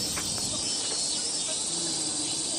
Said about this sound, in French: Et il y a des cigales.